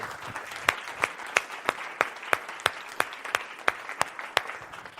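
Church congregation applauding during a service at a breakfast for church volunteers, with steady rhythmic clapping in unison and sharp regular beats over a softer background of scattered claps.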